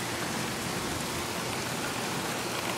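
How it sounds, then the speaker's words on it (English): Pouring rain during a thunderstorm hisses as a dense, constant wash of broadband noise, steady and loud throughout, with no distinct thunder or voices. "because it is like pouring rain and really bad thunder"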